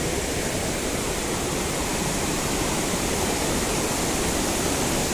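A river in Meghalaya rushes past in a steady, loud, broadband roar of flowing water that stays constant and uninterrupted throughout.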